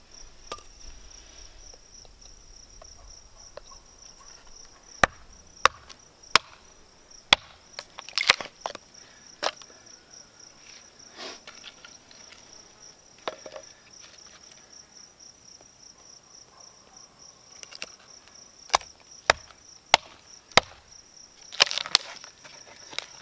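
Hatchet splitting a naturally cracked piece of wood at a campsite, a handful of sharp, isolated chopping strikes spaced irregularly, heard over a constant high chorus of crickets.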